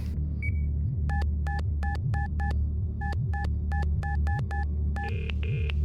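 Telephone dialing in the video game Dark Fall: The Journal: a run of crisp keypad tones in quick groups, followed by two longer ringback tones, all over a low throbbing ambient hum.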